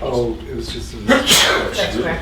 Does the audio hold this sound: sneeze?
yes